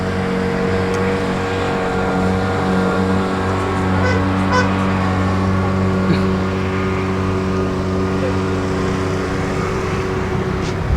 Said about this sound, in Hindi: ये देखिए दूर स्पीड बोट राइड लेते हुए,